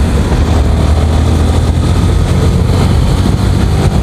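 A Yamaha R15 v3 motorcycle rides at high speed on an open road, its engine droning loudly and steadily under heavy wind rush, with no voices.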